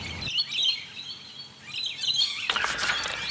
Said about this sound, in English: Some birds here, it's quite nice.